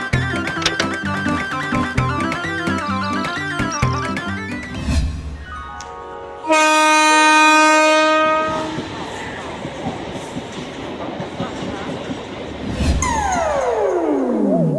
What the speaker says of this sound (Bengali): যা, ট্রেনটা বেরিয়ে গেল।